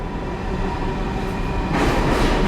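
A subway train pulls into a Lower Manhattan station near City Hall, a steady rumbling rail roar that swells louder and brighter near the end as the cars arrive, with no talk over it.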